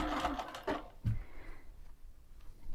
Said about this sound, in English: you definitely don't want to run over your pins, because that's not good for your machine